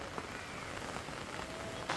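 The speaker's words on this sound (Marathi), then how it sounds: "भिवंडी शहरात सकाळपासून मुसळधार पाऊस कोसळत आहे" Heavy rain falls steadily around a vegetable market area in Bhiwandi, a faint, even hiss of drops on surfaces with a brief louder patter at the end.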